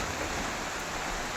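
Rain falls in a steady, dense hiss, unbroken and fairly close, with no voices.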